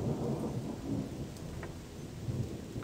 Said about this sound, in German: Ich mache mal wieder ein Unwetter.